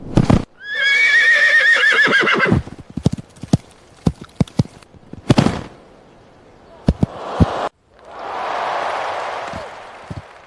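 A horse kept at a private ranch gives one loud, close whinny with rising harmonics, followed by scattered hoof clip-clops and bumps, then a broad rushing noise near the end.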